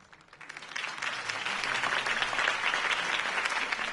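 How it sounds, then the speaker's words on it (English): A crowd in a Batman video game applauds steadily, the clapping swelling over the first second and then holding as a dense, sustained ovation. "If only Mr. Wayne, my campaign's largest backer, could have heard that applause"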